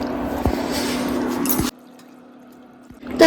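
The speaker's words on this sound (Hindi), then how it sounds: "अब चलिए डालते हैं सादा पानी" Plain water is poured from a vessel into a pot of cooking mutton in a village kitchen, a close, steady splashing pour that stops abruptly, leaving a faint hum before a brief clatter.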